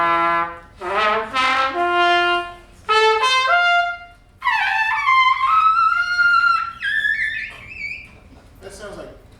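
A trumpet plays loud, sustained notes alone, leaping from low to high register with a tone that changes character between the low, middle and upper notes, ending on a short high blast.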